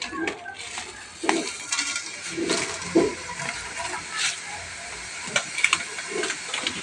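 Two spoons of oil heat in a pan over a gas flame, giving a steady broadband hiss with a few soft clinks and scrapes of a utensil against the pan.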